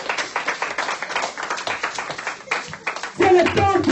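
A church congregation claps steadily to acclaim Jesus during a French-language sermon, a dense, continuous patter of many hands under loud voices, swelling near the end.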